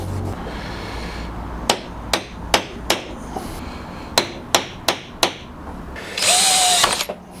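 A cheap power drill drives cheap screws in a home workshop, giving a series of sharp, evenly spaced bursts close by, then a longer loud whir near the end; no one speaks.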